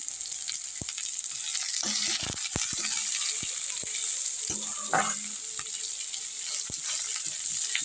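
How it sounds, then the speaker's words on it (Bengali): Moong dal with carrot, capsicum and beans frying in a pan, a continuous close sizzle broken by sharp clicks and scrapes of stirring, with no talk. "ভালো করে ভাজা ভাজা করে নেবো"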